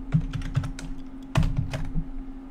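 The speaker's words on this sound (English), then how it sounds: "my typing is terrible today" Quick bursts of computer keyboard typing with uneven clicks and a louder thunk midway, close and clear over a faint steady hum, with no talking.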